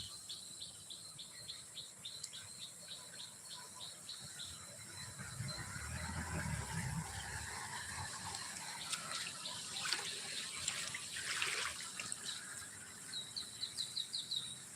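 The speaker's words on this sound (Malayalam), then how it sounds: "റോഡ് സൈഡ് കൂടെ ഒക്കെ വെള്ളം ഒഴുകുന്നത്" Water runs quietly and continuously along a roadside in rural Palakkad, while insects chirp in quick repeated bursts over it, all fairly faint and distant.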